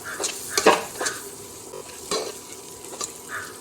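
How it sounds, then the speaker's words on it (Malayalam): Garam masala, pepper powder, chili and coriander powder are stirred into a Kerala-style chicken curry sizzling in a pan. A spoon scrapes and clinks against the pan in irregular strokes over a soft sizzle, nearby and without talk. "ഇനി എല്ലാം കൂടി ഇത് നമുക്കൊന്ന് ഇളക്കി കൊടുക്കാം."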